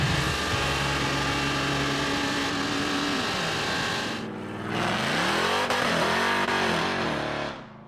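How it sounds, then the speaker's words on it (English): A 700-horsepower 440-powered car doing a tire-smoking burnout, the engine holding a loud sustained roar, then dipping briefly before revving back up in rising sweeps and cutting off near the end, with no talking. "It's kind of hard to walk away from the 700 horsepower burnout goodness, isn't it?"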